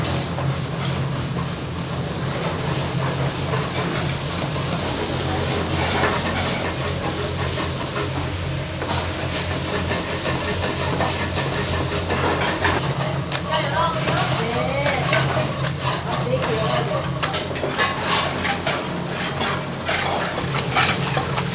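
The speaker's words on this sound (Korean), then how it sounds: "익숙한 듯 5개의 팬을 동시에 올려 낙지볶음을 요리하는 명인" Octopus stir-fried in five pans at once in a busy restaurant kitchen makes a steady sizzling hiss with scraping and clatter throughout, while voices talk in the background.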